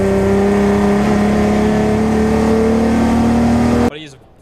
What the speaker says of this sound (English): that car is revving in its own, so maybe something wrong with the gears